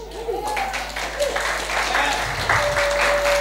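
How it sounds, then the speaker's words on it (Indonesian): Church congregation applauding after a sermon call to praise God, a dense patter of clapping that builds in the second half, with tonal voice-like calls and a low hum beneath. "Beri tepuk tangan buat Tuhan."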